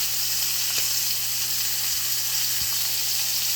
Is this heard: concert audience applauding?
no